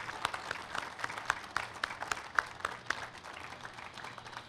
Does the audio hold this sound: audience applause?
yes